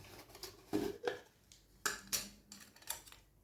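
A spoon clinks and scrapes against a container while chalk powder is scooped for homemade gesso, several short scraping taps spaced irregularly at close range with no talking.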